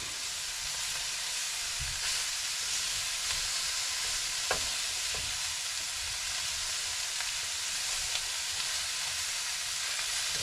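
Fish frying in a pan outdoors, a constant even sizzle and hiss throughout with a couple of faint clicks.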